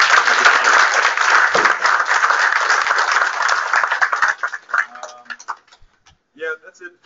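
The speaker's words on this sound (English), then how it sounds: "Larry, round of applause, please." Audience applause and clapping fill a room at a software tutorial event, a dense steady round of claps that fades out over several seconds, leaving a few scattered claps and brief voices at the end.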